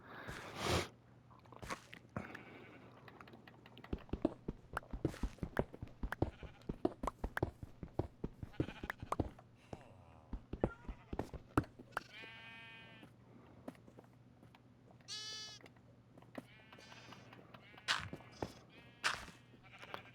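Minecraft sheep repeatedly bleat and munch on grass in the video game, with rapid crunchy chewing bursts and several wavering bleats cutting through quietly, without speech.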